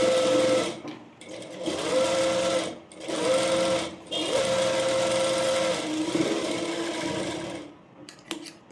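A sewing machine runs in several bursts of steady whirring, separated by short pauses, as it top-stitches a dart on a blouse, close and loud throughout.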